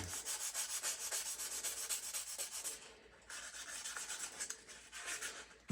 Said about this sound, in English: the more you sand, the more you take off